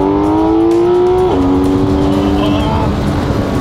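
A supercar's engine with its factory exhaust growls loudly and close while accelerating, its rising tone dipping briefly at a gear change before climbing again, with road rumble beneath and no clear words.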